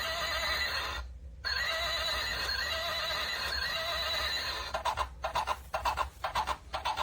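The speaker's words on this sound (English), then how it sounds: "those are the two sounds it makes" A FUNLIO interactive hobby horse toy plays a recorded horse whinny followed by clip-clop hoof sounds in rhythmic bursts, loud and near, with a short pause between sounds and no speech.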